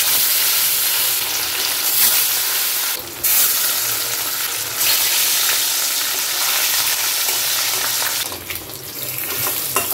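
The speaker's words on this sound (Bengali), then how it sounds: "সবার প্রথমে আমি মাছটা ভেজে নেব, তো এটা কিন্তু হোয়াইট অয়েলেই আমি রান্নাটা করব" Fish frying in white oil in a pan, a loud continuous close sizzle and crackle with brief bursts of stirring, no talking.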